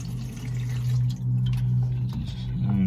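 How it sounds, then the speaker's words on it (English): Water runs steadily into a plastic bottle being rinsed out, a continuous close trickle and slosh with a low hum throughout, splashing briefly near the end. "I'm going to rinse this out a little bit first."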